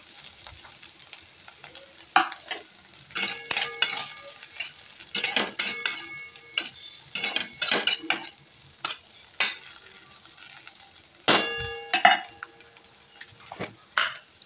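Fasting dosa mixture being stirred and sautéed in a pan with coriander and crushed peanuts: a soft sizzle underneath, with repeated metallic scrapes and clinks of a spoon against the pan coming in irregular bursts, close and clear.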